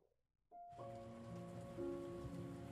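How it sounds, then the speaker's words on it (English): Steady rain in the survival horror game Remothered starts suddenly and keeps up as a dense, even patter, with sustained musical tones ringing over it. "Rain, oh my god, I love the rain."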